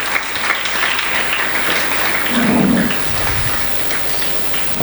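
An audience at a school event on cyber crime awareness, run by a police officer, gives guests loud, sustained applause, a dense wash of clapping that swells briefly midway and holds steady throughout without talk.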